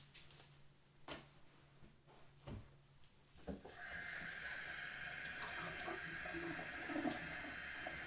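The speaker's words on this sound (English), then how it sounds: "I'm going to rinse this off a minute." A tap gushes steadily into a sink as a crafting tool is rinsed under the running water. It starts after a few faint knocks and clicks, then flows on quietly, with small splashes near the end.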